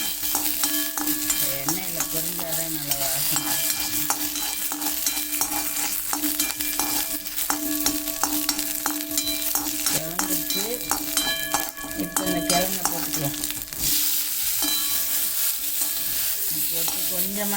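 Mustard seeds and curry leaves frying in hot oil, a loud continuous sizzle and crackle close up, busy and unbroken for the whole stretch, with no talking over it.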